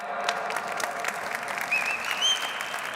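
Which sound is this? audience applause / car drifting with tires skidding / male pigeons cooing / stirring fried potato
audience applause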